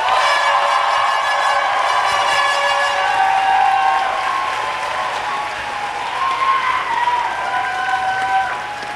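Applause from a crowd at a secondary school graduation, steady clapping throughout with a bright ringing tone running along beneath it.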